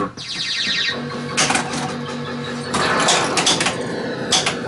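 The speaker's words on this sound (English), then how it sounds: "Hear that nice knock sound we get?" Williams Firepower pinball machine with loud mechanical clacks and a sharp knocker strike about midway, over a busy clattering room tone.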